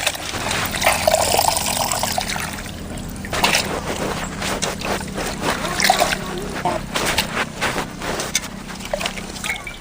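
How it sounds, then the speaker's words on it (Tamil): Water trickles and splashes steadily as foraged village greens are rinsed by hand for keerai kulambu, close and continuous, with a low background rumble and occasional voices nearby. "நல்லா 2 நேரம் 3 நேரம் நல்லா அலசி எடுத்துக்கணும்"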